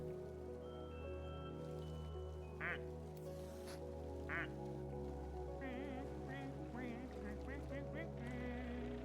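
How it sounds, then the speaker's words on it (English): Short, nasal duck quacks sound a few times in the video game Daemonologie, spaced apart over a continuous bed of game music and background drone. "Did we get a new duck and I didn't realize?"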